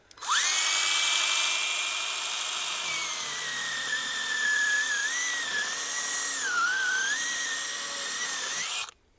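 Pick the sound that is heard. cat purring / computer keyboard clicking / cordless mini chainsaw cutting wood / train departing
cordless mini chainsaw cutting wood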